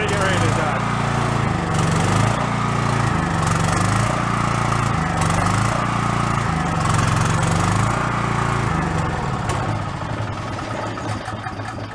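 A small, run-down generator set's engine runs steadily with a loud, rhythmic chugging pulse, then falters and fades as it dies, with nobody talking over it.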